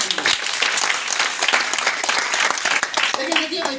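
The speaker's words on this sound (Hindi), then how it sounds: "जोरदार ताली फिर से।" A roomful of people clap loudly and continuously at a meeting in a new DXN office in Patna, a dense burst of applause with voices mixed in beneath it.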